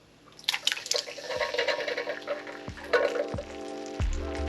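Tomatoes going into a pan of rendered pork fat, with crackling sizzle and spitting drips plus a few clunks of ingredients dropping into the hot fat.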